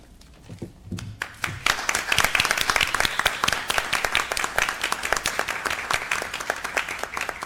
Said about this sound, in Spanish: Eu peço mais uma salva de palmas para esse artista genial, Vladimir Dias